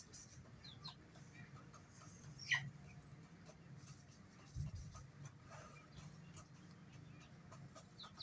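Faint, distant clucking from a chicken, a few soft calls over a quiet, rumbly background.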